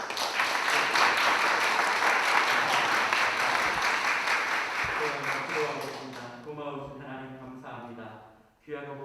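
Church congregation applause at a food market donation event, a dense burst of clapping that fades out, followed by someone speaking.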